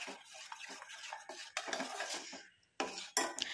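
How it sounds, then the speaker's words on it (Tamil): Tomato and sugar are stirred together in a small bowl, a quick series of close spoon scrapes and clinks against the dish with a short pause before the mixing resumes. "இப்போ அதை நல்லா மிக்ஸ் பண்ணி விட்டுக்கலாம். நல்ல சுகர் எல்லாம் நல்லா கரைஞ்சி இதில் வந்து ஒன்றா சேர்ந்துடும்."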